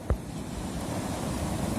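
Sea waves wash onto a beach at night, a continuous, moderately loud surf roar with wind noise against the microphone and a small knock at the start.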